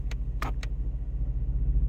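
A Ford Mustang exhaust rumbles at a low, pulsing idle after its exhaust switch is pressed, a faint steady throb with a few brief clicks near the start and no talking.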